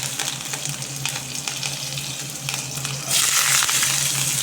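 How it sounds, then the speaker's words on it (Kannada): Mustard seeds and cumin frying in a pan with oil: a continuous hissing crackle that turns noticeably louder and brighter partway through as the sizzle intensifies, heard close and without any talking. "ಅದೇ ಬಾಣಲೆಗೆ ನಾನು ಮೆಣಸಿನ್ಕಾಯನ್ನ ಇಲ್ಲ ಪಕ್ಕ ಸೈಡ್ ಹಾಕ್ಕೊಂಡು ಸಾಸಿವೆ ಮತ್ತು ಜೀರಿಗೆ ಹಾಕ್ತಾಯಿದ್ದೀನಿ"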